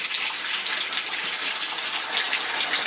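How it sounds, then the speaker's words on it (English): Clean rinse water runs steadily into a container for washing a vintage Hoover cloth vacuum bag, a continuous close hissing gush with no pauses and no talking. "And now we're going to fill up with just water this time."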